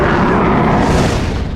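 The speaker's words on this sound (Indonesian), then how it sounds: "tiba-tiba terdengar suara ledakan bom" A bomb blast from a military attack in a war film set among the Taliban: a loud, dense, roaring explosion that fills the whole moment and slowly fades at the end.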